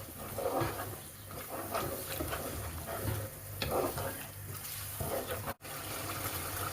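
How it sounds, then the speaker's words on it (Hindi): Chicken being stirred with yogurt in a pot, a continuous wet scraping and squelching with soft sizzling underneath, moderately close and steady throughout, with one brief sharp click near the end. "जब दही डालनी है तो इसको अच्छी तरह हिलाना है 1 मिनट के लिए"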